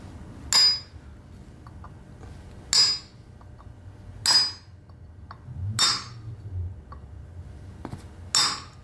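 A wheel bearing seal is hammered into the front wheel hub of a 1958-1964 Ford tractor. Five sharp, ringing metallic blows land at roughly even intervals with quiet gaps between them.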